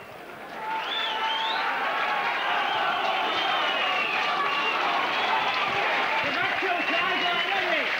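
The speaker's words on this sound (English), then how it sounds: "just look at the crowd applauding that try by Carl Harrison" A rugby league crowd at Featherstone Rovers versus Castleford in 1988 applauds a try with sustained, dense clapping and cheering that swells within the first second and then holds steady and loud, with a commentator talking over it.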